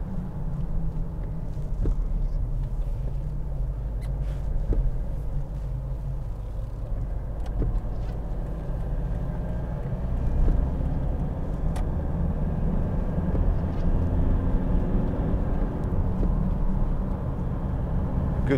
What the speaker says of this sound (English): The noise from the roof bars is quite dreadful.